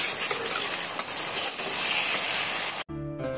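Onion and tomato paste fry in a pan with a loud, dense, continuous sizzle, cut off abruptly near the end.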